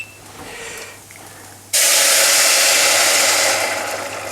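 After a quiet moment, a sudden loud sizzling hiss erupts as water hits lightly fried lentils in a hot pan for dal, holding steady and then easing slightly.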